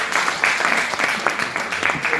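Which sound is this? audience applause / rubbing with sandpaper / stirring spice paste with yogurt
audience applause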